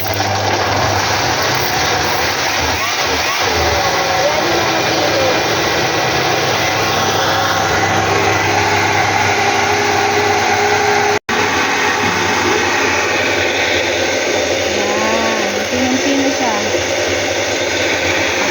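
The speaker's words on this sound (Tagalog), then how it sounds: "Tapos ngayon po, biblender na po natin." A steady, loud motorized whir of an electric blender grinding runs continuously, with a brief cut partway through and faint voices underneath.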